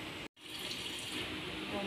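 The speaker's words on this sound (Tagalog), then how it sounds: "Lagyan ko na po ito ng tubig." Water pours steadily from a tap into a bowl while coconut milk is being prepared for maja blanca in a home kitchen, a continuous splashing rush after a brief gap, moderately close.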